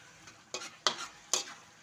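Chili peppers stirred into shrimp paste frying with pork fat, a few separate scraping stirs with bursts of sizzle spaced across roughly two seconds, close and moderately loud with no talk.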